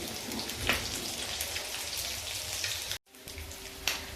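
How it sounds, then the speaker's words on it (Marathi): Eggs shallow frying in a pan for anda masala, a steady hissing sizzle of hot oil with scattered pops, briefly cutting out near the end before resuming. "आता आपण दुसऱ्या साइडने पण असे शॅलो फ्राय करून घेऊ।"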